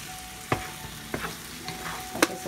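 Eggs with nopales are stirred in a hot pan, a soft sizzle running underneath while a utensil scrapes and clacks against the pan in several sharp strokes.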